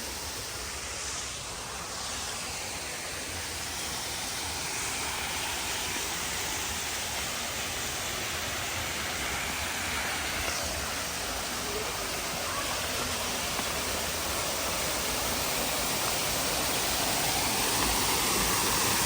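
Decorative water features splash beside the pool at Explorers Lodge hotel, Hong Kong Disneyland, making a steady, even rush of falling water that continues unbroken throughout, moderately loud and without talk.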